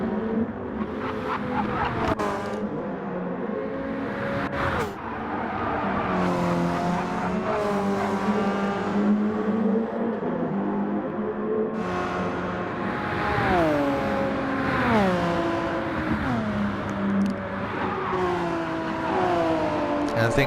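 Race cars, including a Camaro, roaring in a sim racing video game, with engines rising and falling through gear changes and cars passing, loud and continuous under a commentator's voice.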